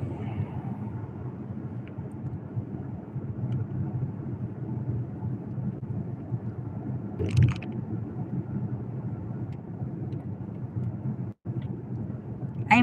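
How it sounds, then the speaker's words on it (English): Inside a car on a clear-sky day, a steady low road rumble fills the cabin, with a brief knock midway and a short dropout near the end. "I can't give you a jacket right now because I am in the car."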